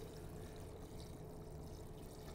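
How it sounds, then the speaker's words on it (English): Cold water poured into a 4-quart container over stock ingredients for red beans and rice, a steady, fairly quiet continuous pouring rush. "we just need to get all of this covered in cold water"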